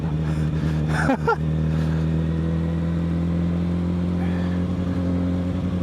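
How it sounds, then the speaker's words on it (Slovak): A Suzuki Bandit 1200N MK1 four-cylinder motorcycle drones steadily under acceleration at low revs, a constant loud exhaust hum with a few brief bursts of a rider's voice over it near the start. "Ale nie som zvyknutý na takýto výfuk."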